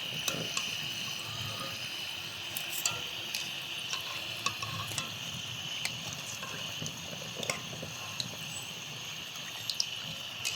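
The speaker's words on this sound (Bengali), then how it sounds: "এইভাবে করে আমি সব চপগুলো ভেজে নেব" Flattened-rice chops fry in oil, a steady bubbling sizzle with scattered small pops and crackles, moderately close, with no voices.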